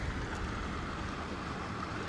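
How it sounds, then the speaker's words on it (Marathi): A small stream near a river in Shringarpur, Sangameshwar rushes continuously, a broad, even wash of flowing water close by with no talk. "पाण्याचा आवाज चेक करू शकतो तुम्ही"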